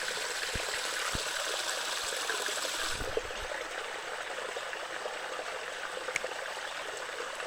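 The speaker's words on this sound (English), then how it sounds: "there's running water in the woods" A small mountain stream runs through the woods in bear country along the Appalachian Trail, a steady broadband rush and trickle heard up close, with a few soft knocks of handling and no voices.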